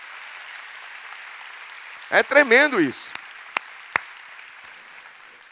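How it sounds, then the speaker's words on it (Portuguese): A church congregation claps softly and steadily in the background while someone briefly speaks over it, followed by a few isolated sharp claps toward the end. "Quem pode dar um aplauso ao Senhor?"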